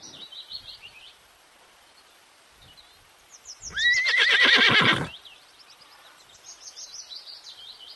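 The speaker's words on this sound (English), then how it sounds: "H for horse." A horse neighs loudly once, a rising then shaking whinny of about a second with bright harmonic bursts, heard alone and close between quieter stretches of faint bird chirps.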